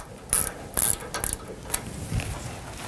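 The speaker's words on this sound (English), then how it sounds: "go ahead and put the needle plate back in place and close it tightly" A metal needle plate snapping shut on a Ricoma MT-1502 commercial embroidery machine, giving a few quick mechanical clicks and a latch-like clack, close and brief.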